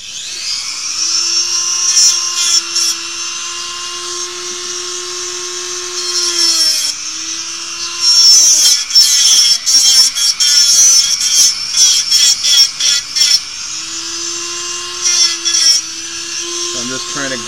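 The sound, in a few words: power tool grinding and cutting a small knob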